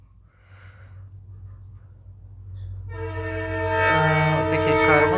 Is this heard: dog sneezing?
no